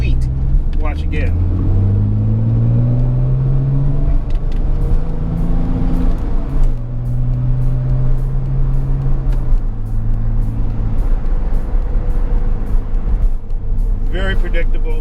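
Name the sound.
Porsche 996/997 Turbo engine accelerating through gears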